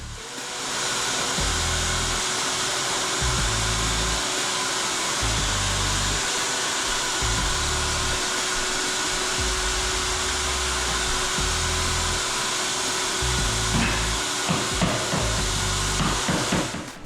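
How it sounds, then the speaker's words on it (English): A loud, steady machine drone with a low rumbling motor as a floor sander runs continuously over old hardwood floors, its pitch shifting slightly as it moves. "one round of sanding"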